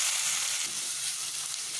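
Chopped onions for a paneer gravy fry in oil with a steady, close hiss and sizzle, brief and unbroken, without speech.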